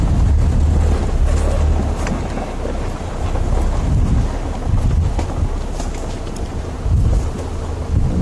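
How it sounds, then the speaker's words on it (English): Steady rain falling outdoors at a wildlife reservoir on a live safari, loud and continuous with heavy wind buffeting the microphone and low rumbling throughout. "Sadly, the weather's kicked off again. Rain's picking up."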